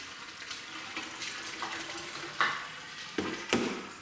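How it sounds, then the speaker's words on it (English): Water is poured into the container of an automatic sliding door closer, giving splashy, trickling bursts that grow stronger toward the end, close by and alone. "all we've got to do is put some water in here and we're right to go"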